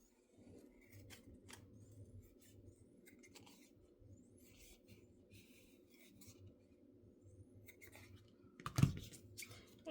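Scissors cutting through foam sheet for a giant foam lily: soft, continuous scraping and snipping close by, quiet and steady, ending with a sharper clack.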